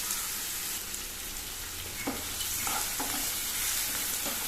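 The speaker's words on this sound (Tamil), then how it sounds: "அது கூட பொடியாக கட் பண்ண பிரண்டையும் சேர்த்து நல்லா வதக்கிக்கணும்." Chopped ginger, garlic and pirandai (veld grape) sauté in a hot pan, a steady close sizzle and crackle with occasional scraping stirs layered over it.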